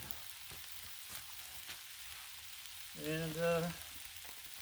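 Smoked sausage, potatoes, corn and peppers sizzle on a griddle with a faint, steady frying hiss. A short voice breaks in partway through.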